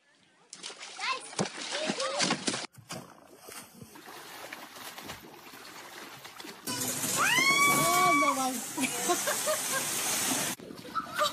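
A loud splash into pool water as someone plunges in seal-style, with voices and excited chatter around it and a short splashy burst earlier.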